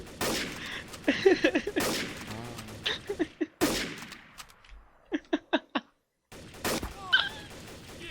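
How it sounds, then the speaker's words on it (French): Gunfire in the video game Garry's Mod, Trouble in Terrorist Town mode: a burst of close, sharp shots, then a quick run of four or five evenly spaced bangs, with game sounds between and no speech. "j'ai ma balle qui est partie, mais ça a rien fait, Kid."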